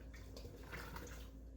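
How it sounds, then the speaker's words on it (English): Cool tap water pours steadily into a homemade mead mixture of honey and water, making a faint, continuous splashing rush with no talking. "add in our other 7 cups of cooler water"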